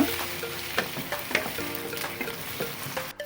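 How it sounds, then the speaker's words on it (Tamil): Chopped tomatoes and green chillies stirred into onions frying in a pan for a sambar and prawn fry lunch, a steady sizzle broken by spoon scrapes and clinks, close and alone. "இப்போ வந்து தக்காளியை கொட்டிக்க வேண்டிட்டாங்க. பச்சை மிளகாவும் போட்டுக்கணும். போட்டுட்டு கிண்டி விடணும் நல்லா."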